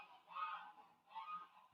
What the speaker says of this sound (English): Good morning, geese.